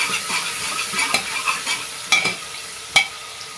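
Moong dal khichdi being sautéed and stirred in a pan, a steady soft sizzle with scraping strokes of a spoon and a few sharp clinks against the metal, close and alone.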